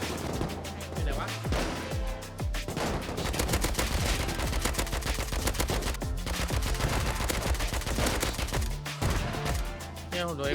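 Sustained rapid gunfire in a survival video game, with dense overlapping bursts of shots continuing loudly throughout, over a busy game soundtrack and occasional voices.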